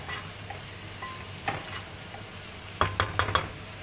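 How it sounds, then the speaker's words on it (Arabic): Liver and gizzards sauté in a pot, giving a soft, steady sizzle. Near the end, a utensil stirring against the pot makes a quick cluster of sharp clinks, with no talking. "انا بس بدي التشويحه بتاعتهم كده"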